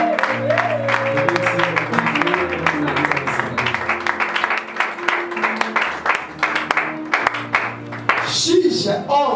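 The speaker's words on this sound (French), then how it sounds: "Acclamons encore très fort pour la bonté." A church congregation applauds during a service, sustained clapping that runs steadily under music and voices.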